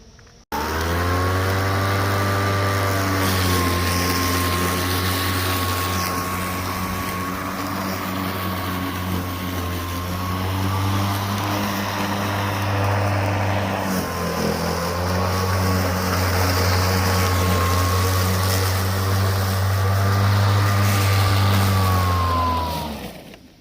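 A Greenworks 48V brushless 21-inch self-propelled lawn mower runs and cuts grass with a loud, steady motor whine and a low hum. The sound holds for most of the stretch, then cuts off at the end.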